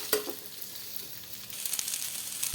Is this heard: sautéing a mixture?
yes